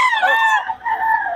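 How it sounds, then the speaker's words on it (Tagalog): A fighting cock crows once, close and loud, a strained, wavering call that dips briefly before trailing off. "Ganda ng linyada ng mga manok ni Boss Tony"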